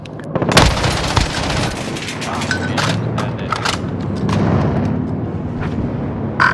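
Heavy gunfire in Call of Duty Modern Warfare 2019: loud, close, sharp shots and booming reports crack irregularly over a rumbling battle bed, thinning toward the end.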